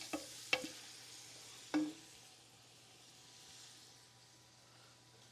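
A spoon scraping browned fond off the bottom of a saucepan, heard as two or three brief clacks followed by a soft steady sizzle, faint and close.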